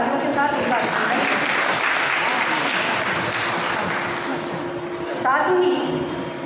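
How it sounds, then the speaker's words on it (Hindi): Hall audience applauding at the Mahakavi Kashinath Pandey Shikhar Samman 2026 award ceremony as honoree Shyam Sharma is welcomed, sustained steady clapping that tapers slightly toward the end, with a brief voice cutting in. "एक बार जोरदार तालियों के साथ उनका अभिनंदन।"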